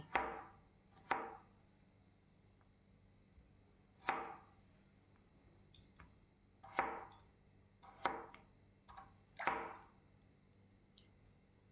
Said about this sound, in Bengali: চৌকো চৌকো শেপ দিয়ে ছোট ছোট করে কেটে নেব